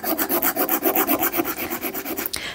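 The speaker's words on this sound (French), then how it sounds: "quand on lime justement ces petits résidus, vous voyez, ils finissent par tomber" A nail file rasping resin residue off a popit nail set, a fast even run of about a dozen back-and-forth scraping strokes, loud and close, ending with a brief louder rub.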